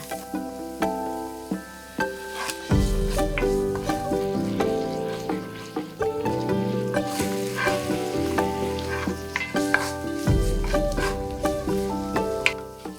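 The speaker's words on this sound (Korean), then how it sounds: "다진 마늘과 대파를 넣어 향이 날 때까지 볶는다." Minced garlic and green onion sizzle steadily in a hot pan with bursts of louder frying and the scrape of stirring, close and continuous with no talking.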